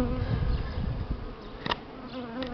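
Buckfast honeybees buzzing around an opened hive during an early spring inspection, a steady, close, dense hum with a few louder passes of individual bees.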